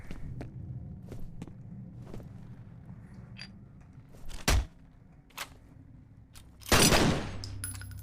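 Burst-fire rifle shots in the shooter F.E.A.R.: sharp clustered cracks with a loud burst near the middle and a heavier blast toward the end, over a low mechanical game rumble, no talking.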